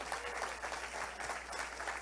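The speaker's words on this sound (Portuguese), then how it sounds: "Você quer aplaudir ao Senhor" A church congregation claps continuously and evenly, dense applause filling the whole short stretch without pause.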